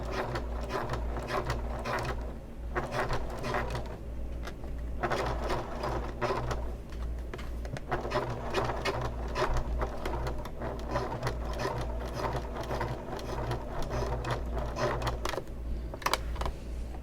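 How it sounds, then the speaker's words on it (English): A sewing machine stitches over the top of a pocket on a convertible bag, its close, busy mechanical whirring and rapid needle clatter running almost continuously with only brief slowdowns. "Now you probably are going to sew over the top of the pocket"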